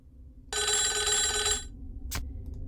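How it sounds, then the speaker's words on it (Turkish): Telephone bell ringing in the video game Homicipher, one loud burst of bright ringing that lasts about a second, then stops abruptly and is followed by a short click against a quiet low hum. "Telefon."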